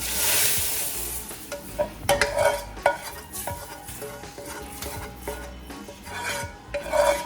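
Metal spoon scraping and stirring sautéed ingredients into rice in a pan at home, with irregular clinks and scrapes over a soft sizzle, close and steady throughout.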